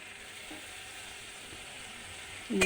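Spice paste with turmeric fries for a fish curry, giving a steady close sizzle throughout, with a brief utensil clatter against the pan right at the end.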